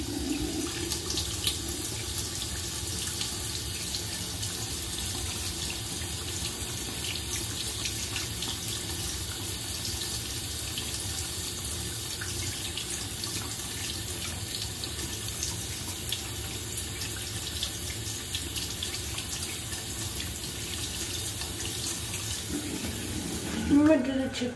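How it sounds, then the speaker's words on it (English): Tap water runs steadily from a faucet into a sink as someone washes off a face product, a constant close splashing hiss with no breaks. A faint knock comes at the very end. "That water's cold. I'm going to add a little more water."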